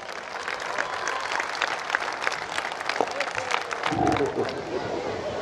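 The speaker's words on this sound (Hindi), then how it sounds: "आपकी तालियों की गूंज में जनाब जाहिद फखरी साहब।" A mushaira audience in Dera Ghazi Khan welcomes poet Zahid Fakhri with a sustained wave of applause, dense clapping mixed with crowd murmur that swells briefly near the end.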